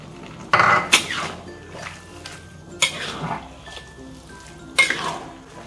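Beaten egg goes into noodles frying in a street-vendor style wok for mie tek-tek with chicken feet, with a soft sizzle under several loud metallic clanks of a spatula against the pan.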